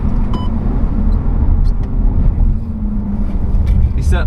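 A Seat Leon, a front-wheel-drive car, laps the wet Nürburgring Nordschleife, its engine droning loud and steady from inside the cabin under a constant road rumble, while a voice talks over it.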